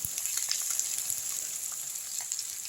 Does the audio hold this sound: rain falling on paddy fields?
no